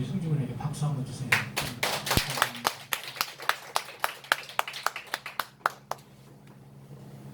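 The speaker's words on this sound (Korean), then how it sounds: "우리 승주군에게 박수 한번 주세요" Church congregation claps for a young keyboard accompanist, starting as a ragged burst under voices and thinning into sparse, distinct individual claps before fading out.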